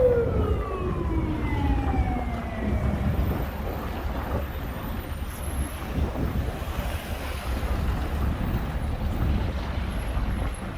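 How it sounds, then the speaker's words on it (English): An ambulance siren wails with falling, sweeping tones, fading into the distance over wind and street noise on Nevsky Prospect, St. Petersburg, in winter. "Okay, what's going on there? An ambulance."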